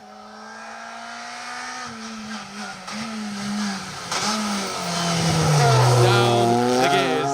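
Rally car on a Protyre BTRDA Rally Series stage shifting down through the gears into a hairpin, engine note dropping in repeated steps, then rising to a loud, revving pass with tyre squeal, fairly close.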